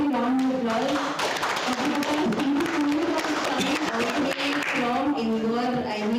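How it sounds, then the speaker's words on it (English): An audience at a university conference's closing ceremony applauds in a sustained, dense round of clapping, while someone speaks over it the whole time. "we're going to be a big roaring round of applause"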